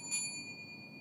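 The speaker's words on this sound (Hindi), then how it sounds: "घंटी बज रही है" A single bell is struck during a devotional lecture, ringing out with a bright onset and a clear, sustained tone that slowly fades, faint against a quiet background.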